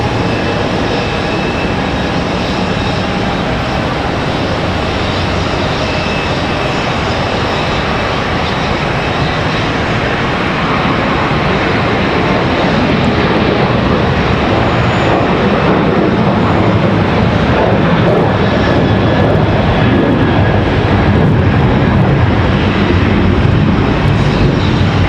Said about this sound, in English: Next departure is going to be American Airlines 352 off to Los Angeles. It's going to be that A321 you see making that turn there